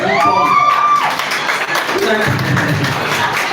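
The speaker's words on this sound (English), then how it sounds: "with a round of applause, kindly welcome on stage a chartered accountant" Seminar audience at a foundation launch claps to welcome a chartered accountant onto the stage. A brief tonal sound opens, then steady, fairly loud clapping fills the rest.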